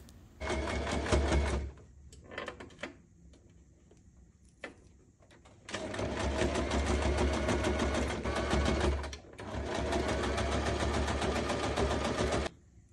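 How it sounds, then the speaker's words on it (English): A sewing machine stitches the side seam of a crescent hobo bag in three bursts: a short run, a pause with faint handling, then two long, steady runs of rapid, even needle chatter close up. "After you did the pinning on one of the sides, just stitch it all the way."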